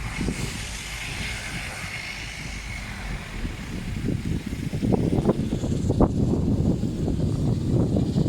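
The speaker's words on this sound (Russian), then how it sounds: "Все заглушает двигатели." A Bombardier Dash 8 Q300 turboprop parked at Tiksi airport shutting down its engines, a broad steady engine roar that carries low rumbling pulses and grows slightly louder and rougher toward the end.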